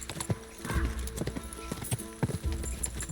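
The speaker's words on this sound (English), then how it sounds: "Mi pobre caballo." Hoofbeats of a horse racing toward a roadside chapel in the video game Kingdom Come: Deliverance, a quick uneven clip-clop of strikes with occasional snorting, fairly close and moderately loud over a faint game background.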